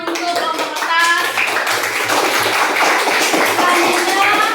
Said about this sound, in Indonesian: tepuk tangan untuk kelompok kertas